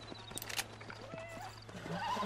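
Horse in the Red Dead Redemption video game neighing with a rising whinny while hooves clip-clop in a light rhythm, fairly quiet and with no voices.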